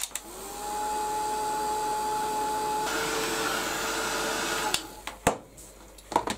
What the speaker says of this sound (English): I just want to split this now and dry it with the heat gun.